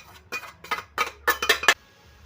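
A metal pot and spoon clink and scrape as semolina and corn batter is scooped into another cooking pot, a string of sharp, close knocks that grows busier toward the end and then stops.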